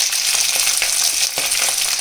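Boiled potato pieces land in hot oil already sizzling with cumin and chili, giving a loud, close, continuous frying hiss with brief crackling bursts while cooking sabudana khichdi.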